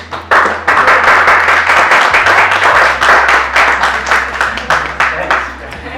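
A small audience at a software platform demo claps after the presentation, with distinct, fairly close individual claps in a brisk, uneven rhythm that gradually loosen, over a low steady hum.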